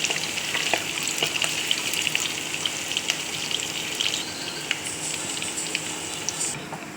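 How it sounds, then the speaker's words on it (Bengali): Chopped onions fry in oil with panch phoron, giving a steady close-up sizzle with crackles and occasional stirring scrapes throughout, no talking. "পেঁয়াজটা আমরা লাল করে দিচ্ছি।"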